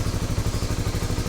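A Rusi Flash 150X V3 2026 motorcycle idles high at about 1,500 RPM, a close, fast, even low thumping pulse with a light mechanical clatter.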